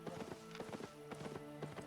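Hoofbeats of a donkey mount trotting in the video game Albion Online, a quick steady clip-clop rhythm of light, close hoof taps, repeated clearly over a couple of seconds.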